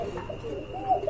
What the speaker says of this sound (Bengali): এক জোড়া কবুতর আছে